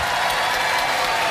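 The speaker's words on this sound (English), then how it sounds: "Ladies and gentlemen, give them a round of applause." Studio audience at a Robot Wars heat applauding, a brief burst of dense, steady clapping heard close and alone.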